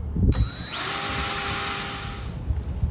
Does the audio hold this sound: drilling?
yes